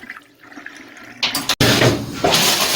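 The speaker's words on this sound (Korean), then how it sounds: "오른쪽으로 돌려서 잠그면 자 이렇게 수압이 약해지죠" Water gushes from a bathroom shower faucet while its valve is adjusted, quiet trickles at first, then a sharp click and a loud, close rush of flow that surges again near the end.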